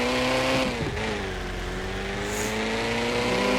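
In a car simulator video game, a synthesized car engine revs up steadily with a gear-change dip partway through, loud and constant, with no one talking over it.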